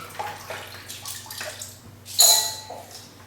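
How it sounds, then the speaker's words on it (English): Hands scoop the last ice and meltwater out of a Yeti 65 cooler, with sloshing, dripping water and a sharp clatter of ice partway through, close and without talking. "I am going to get all the ice."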